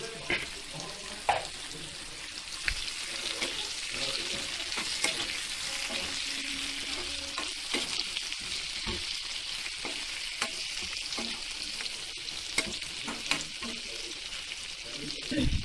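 Onion and capsicum fry with half-cooked chicken in a pan for a dry chicken dish, giving a steady, soft sizzle close by, with scattered clicks and scrapes from stirring.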